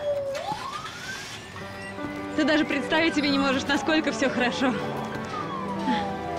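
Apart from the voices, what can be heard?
police sirens wailing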